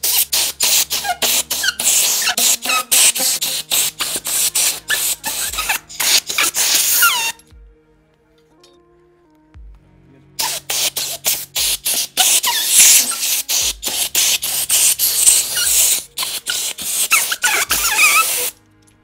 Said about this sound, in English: for the first time ever, I think we actually have air in the compressor